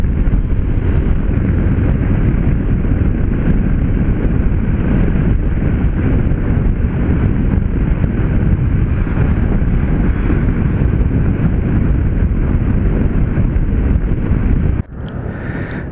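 Strong wind roars continuously against the microphone, a loud, rumbling buffeting that cuts off abruptly near the end.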